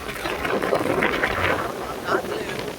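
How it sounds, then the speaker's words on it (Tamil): Strong gusty wind blowing before heavy rain, a steady loud rushing roar buffeting the microphone for the whole stretch. "செம்ம காற்று."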